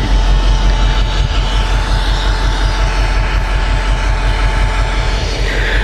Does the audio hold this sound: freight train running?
yes